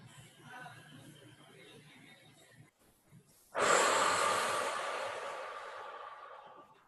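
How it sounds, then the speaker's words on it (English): A women's group breathes together in meditation: soft, quiet breaths at first, then after a short pause a louder, long airy exhale that slowly fades. "And just breathing together, feel yourself connecting with each woman in the group"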